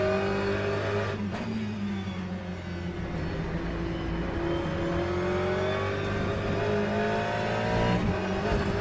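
An Aston Martin race car engine at Circuit of the Americas in Le Mans Ultimate drones loudly from onboard, a sustained high-revving tone climbing and settling through gears with a brief tire squeal near the start.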